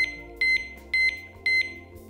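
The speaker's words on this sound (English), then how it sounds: "the key is turned to the on position and beeps 6 times to notify the user that it is alarmed" Three loud, evenly spaced double beeps from an ABUS motorcycle disc lock alarm arming, each a pair of high-pitched tones, sounding close and clear over a faint low hum.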